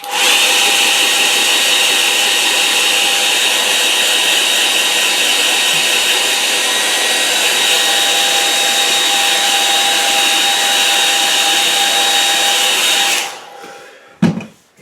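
A hair dryer blows steadily and loudly at close range while drying a wet-in-wet watercolour painting, running for about thirteen seconds and then switching off, followed by a brief clatter.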